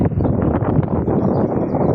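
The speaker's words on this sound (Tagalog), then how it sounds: "Lakas pa ng hangin, tsaka nag-sandstorm." Strong wind in a parking area during a sandstorm, buffeting the microphone with steady, rough low roar and rustle for the whole stretch.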